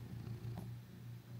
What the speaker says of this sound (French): Vous allez l'entendre ronronner